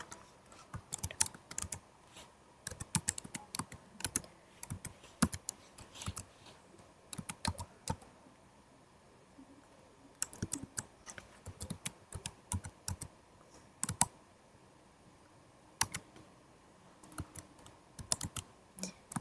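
Typing on a computer keyboard, bursts of quick, crisp key clicks in irregular clusters with short pauses between, close and alone.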